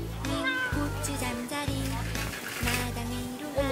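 A cat meows several times over a noisy indoor background, with people talking and a persistent low hum or music throughout.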